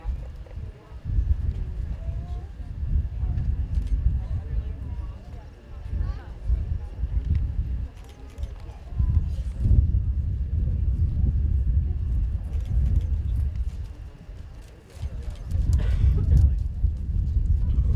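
Horses walking on the rail at a 4-H fair western horse and pony class, soft hoof clip-clops with low rumble, steady and moderately near throughout.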